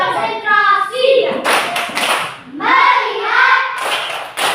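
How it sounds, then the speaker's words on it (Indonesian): A class of children doing a concentration clap in a classroom, short bursts of group hand claps between a leader's spoken cues, with children's voices chanting along. "Coba kita tepuk konsentrasi dulu."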